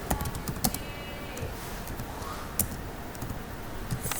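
Steady, fast typing on a computer keyboard while writing C++ code, with continuous close key clatter and a few sharper clicks standing out, and no voice.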